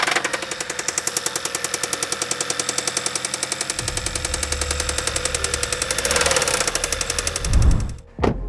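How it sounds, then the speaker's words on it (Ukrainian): A VAG car engine with 300,000 km mileage idles with a rapid, steady metallic connecting-rod knock, loud and close, the rhythm quickening slightly as the engine revs near the end. "Чув, як шатун в так стукає."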